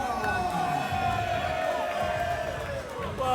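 A crowd at a white collar boxing night in London cheers and applauds after a bout, a dense, steady roar of voices and claps that fills the room, with a tonal voice or music running through it.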